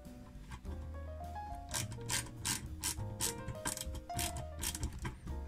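Ratcheting mechanism clicks steadily as a part is screwed tight, a rapid series of close, crisp pawl ticks over a low mechanical rumble.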